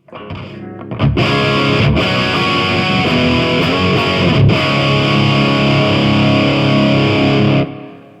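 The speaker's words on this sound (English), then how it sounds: "when you push in a bit of distortion from the amplifier, from the power section" A heavily distorted electric guitar chord through a Mesa Flux Drive distortion pedal with amplifier power-section distortion rings out loud and sustained, with a couple of sharp strums before it fades at the end.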